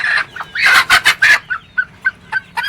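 Desi country chickens kept in a pomegranate orchard cluck loudly and close by, a quick run of sharp calls that thins into a few spaced, short clucks.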